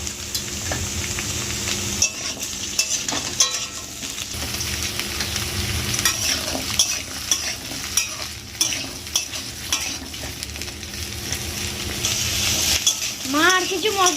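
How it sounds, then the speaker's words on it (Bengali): Vegetables frying in a pan for a Bengali curry (jhol): a steady broadband sizzle with scraping stirs and a few metallic clinks, continuous throughout, with faint background voices and a brief chirping sound near the end. "আমি এখানে ঝোলটা বানানোর জন্য সবজিগুলো ভেজে নেব।"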